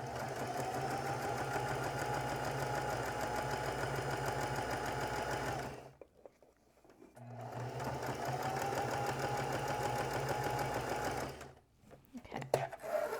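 A domestic sewing machine chain-pieces quilt blocks in two long continuous runs of steady, close motor whir and needle rattle, each broken by a short pause.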